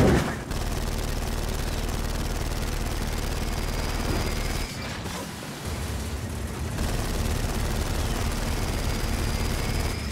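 Sustained, dense gunfire in a video game: a loud, continuous roar of shooting that breaks off briefly midway and then resumes, with no voices heard.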